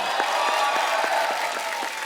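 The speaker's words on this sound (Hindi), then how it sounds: "एक बार जोरदार तालियां हो जाए मिस्टर सैफ अली खान, रानी मुखर्जी और शर्वरी" Studio audience applause on a television comedy show, a short steady burst of dense clapping with rhythmic accented claps standing out, fairly even in level.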